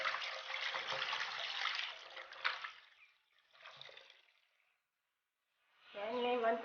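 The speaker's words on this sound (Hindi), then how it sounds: "अब हम इसे सादा पानी से धो देंगे" Fish rinsed with plain tap water in a kitchen: running water splashes and trickles in short bursts with pauses of near silence between them.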